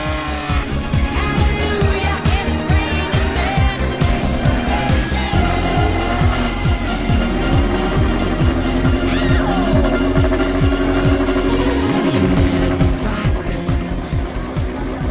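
A Renault Spider and an Alpine berlinette, the two opening cars at a hillclimb at Arques-la-Bataille, pull away one after the other with loud, close engine roars that rise and fall through the gears, with tire squeal along the way.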